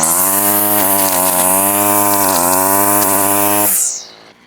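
A string trimmer loaded with round line cutting through finger-thick weed stems: a loud, sustained high-revving engine whine with brief dips as the line strikes the stalks, then a quick spin-down at the end.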